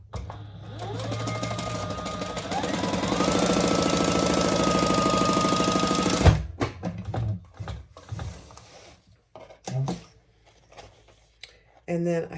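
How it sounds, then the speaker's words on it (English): A sewing machine stitches clutch lining to a front panel in a rapid, even whirring run that speeds up partway through and then stops, followed by a voice and a few handling knocks. "So we're going to sew our lining to our front panel."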